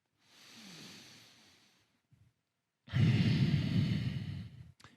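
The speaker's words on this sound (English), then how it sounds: "focus on that slow, controlled breathing in and out of the nose" Slow, controlled breaths in and out through the nose during a standing yoga-style warm-up, one soft inhale followed by a longer, louder exhale, close and alone.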